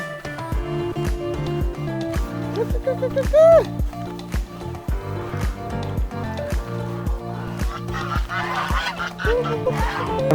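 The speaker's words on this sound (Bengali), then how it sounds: "হাঁসগুলো কত সুন্দরভাবে উড়ে যাচ্ছে, দেখার মতন একটা দৃশ্য।" A flock of ducks flying over a wetland haor, with repeated honking calls among a rhythmic thumping background and one loud call near the middle.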